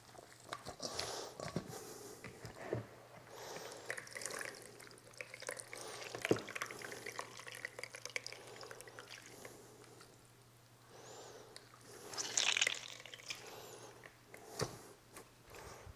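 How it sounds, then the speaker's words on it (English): Water squeezed from zucchini in a strainer trickles and drips intermittently at close range, with soft wet squelching and occasional splashy bursts, fairly quiet throughout. "Look at all the water coming out of this."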